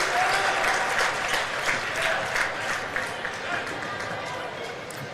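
Breckenridge supporters in a high school girls' basketball gym give a sustained round of clapping that slowly thins out, with a voice speaking over the applause.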